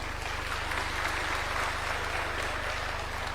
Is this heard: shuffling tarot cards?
no